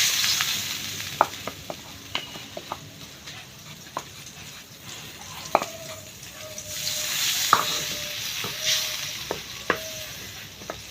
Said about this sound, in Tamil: அதை சட்டி அடுப்பில் வச்சு அந்த பட்டரை இதில் போடுறோம்.